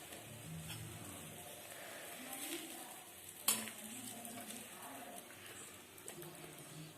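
Akki rotti, a rice-flour flatbread, fries in oil on a pan with a faint, steady sizzle and soft crackle, with a brief sharp clink of utensil on pan partway through.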